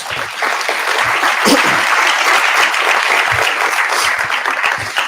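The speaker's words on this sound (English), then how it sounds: "So please give them a round of applause" Sustained audience applause at a political forum, a dense steady wash of many hands clapping for strategic partners, loud and continuous throughout with no voices over it.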